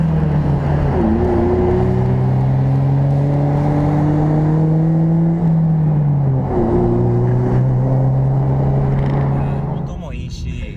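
A Honda Civic Type R FD2 with a VTEC engine revs up through the gears from inside the cabin, its loud climbing whine dropping at each shift and then rising again.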